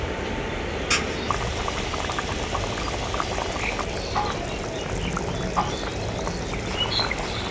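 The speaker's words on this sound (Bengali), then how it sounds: "মাছ দেওয়ার পর ঝোলটা আমি আবারও খুব ভালো করে ফুটিয়ে নেব" Shol fish curry gravy with kasundi mustard boils in a pot, a loud, steady, dense bubbling that runs unbroken throughout with only small pops on top.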